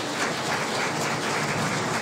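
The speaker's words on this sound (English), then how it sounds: "Please give all of our guests a round of applause." Steady applause from a crowd at a cabinet ministers' swearing-in ceremony, dense clapping throughout without pause, fairly loud and close.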